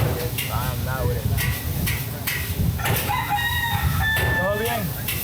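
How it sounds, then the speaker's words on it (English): A rooster crows twice in long rising calls while chickens cluck nearby in Nicaragua, loud and close over steady outdoor background noise with a person talking. "me and that chicken about to fight."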